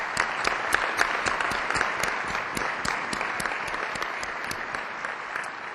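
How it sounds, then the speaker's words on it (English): Audience at an annual partnership meeting applauds the corporate sponsors, a broad continuous clapping from a large room with several sharp individual claps standing out, slowly tapering toward the end. "Let's give them a huge round of applause"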